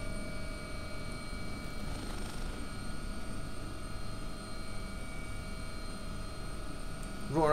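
An AW-139 helicopter in the X-Plane 11 flight simulator, flying a London Air Ambulance mission, gives a steady rotor and turbine drone with a constant whine. The sound holds evenly throughout and swells slightly at the very end.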